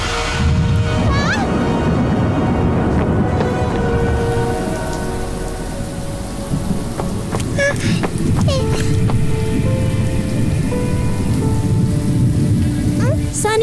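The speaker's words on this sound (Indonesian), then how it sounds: "Ia terjebak dalam hujan, benar-benar bingung dengan apa yang terjadi." Steady heavy rain drums loudly on a surface throughout, with rumbles of thunder rolling underneath and a few short bright tones from a cartoon soundtrack scattered over the downpour.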